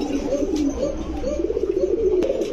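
Large fancy pigeons coo in cages at a pigeon farm, a low, rolling, repeated cooing close by with soft background noise and no clear talk.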